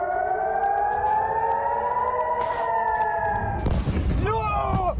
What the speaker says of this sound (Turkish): İsrail'in dört bir yanında siren sesleri yankılandı.